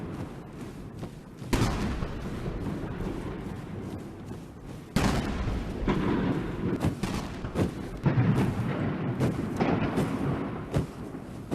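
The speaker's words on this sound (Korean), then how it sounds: "80발의 대포가 발사되는 속에 중화인민공화국 국기 개양 의식이 진행됐습니다." Cannon salute booms at a flag-raising ceremony in Tiananmen Square, 80 rounds in all, heavy blasts repeating every second or so over a loud, rumbling outdoor wash, with no speech.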